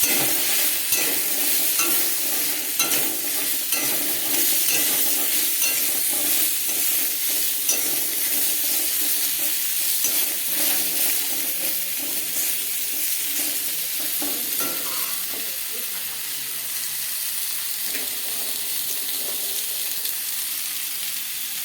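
Rohu fish and potato curry frying in a pan gives a loud, steady sizzle and hiss, broken by rough scraping as it is stirred over a long stretch, with no voices.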